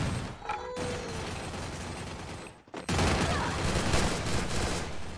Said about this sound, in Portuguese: Estão pegando tiro de cima